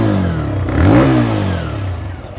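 A Bajaj Freedom 125 CNG motorcycle engine is given a single sharp blip of throttle, its close exhaust rising quickly to a loud rev and falling back to idle, with no talking.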